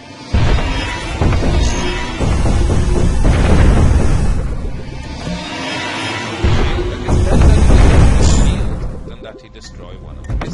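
Missile explosions in the multiplayer game Cannon Brawl on a western coast map: heavy booming blasts in several rolling bursts, with someone talking over them.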